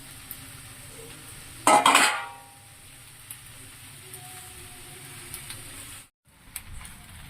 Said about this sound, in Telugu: మనం ఇప్పుడు ఈ పాస్తాని మనం దీంట్లో వేసేద్దాము.